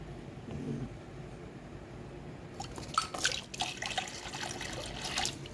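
Water poured into a pet snake's water bowl: a quiet background first, then a close splashing, dripping pour with brief sharper splashes lasting a few seconds, no talking.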